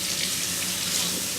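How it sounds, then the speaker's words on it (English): Kitchen tap running steadily while tomatoes are washed under it, a close, continuous splashing hiss of water. "we're gonna wash the tomatoes"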